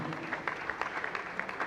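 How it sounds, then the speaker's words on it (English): An audience claps for a speaker at a tech event, a quiet, fairly even run of handclaps at a brisk rhythm, heard from a distance. "Please let's clap for him."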